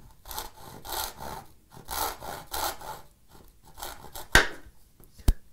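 A hand saw cuts through a mahogany board in rhythmic strokes, each push and pull a raspy woody rasp in an even cadence, close and clear, ending with a couple of sharp knocks.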